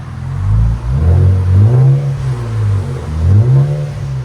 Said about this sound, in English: 2024 Nissan Z. This is after with AWE track system. Catback.